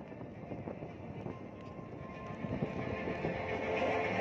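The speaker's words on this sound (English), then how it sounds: "Taking the center stage now, made possible by a combination of thrust vector engines and fly-by-wire technology." A fighter jet with thrust-vectoring engines and fly-by-wire controls roars past at the Aero India 2023 air show, its broad jet rumble rising steadily and growing louder toward the end of the pass.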